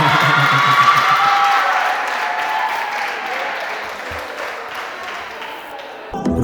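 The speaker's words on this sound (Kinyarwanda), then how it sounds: "amashyi menshi cyane." Sustained audience applause and cheering at a Rwandan talent-hunt pre-selection in Kigali, a dense wash of clapping that holds steady for several seconds before briefly dipping near the end.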